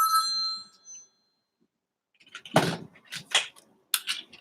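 A telephone rings with bright electronic warbling tones over about one second, then falls silent before a person starts talking close by.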